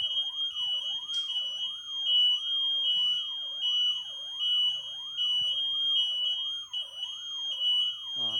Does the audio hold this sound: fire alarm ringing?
yes